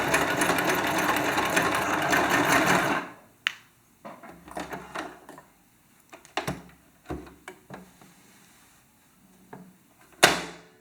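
A sewing machine stitches the lining of a star-shaped crocheted cushion, running in a steady close buzz for about three seconds, then stopping, followed by scattered clicks and handling knocks of fabric and machine.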